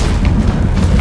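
A deep, sustained roaring boom from an explosion in The Witcher 3, loud and dense with low rumble filling the whole moment, with no voices over it.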